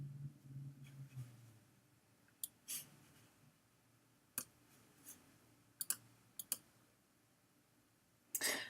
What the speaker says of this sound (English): Let me move it over here so I can type my password in.